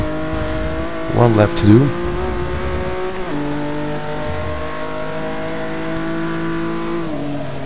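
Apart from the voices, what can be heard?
race car engines in video game Forza 6 at Silverstone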